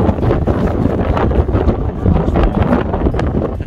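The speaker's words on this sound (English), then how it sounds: "A bit windy up here." Storm-force wind batters an exposed hilltop wild camp near Crowden Tower, roaring as loud, continuous, gusty buffeting across the microphone with no pauses.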